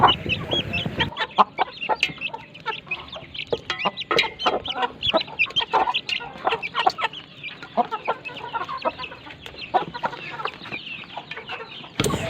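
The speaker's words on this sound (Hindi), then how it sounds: "ये देखिए ये 2 चूज़े इस मुर्गी के पास हैं और बेइंतहा शरारती है।" A hen with two lively chicks clucks repeatedly in a farmyard, producing a steady run of close, moderately loud clucks and chirps with no one talking.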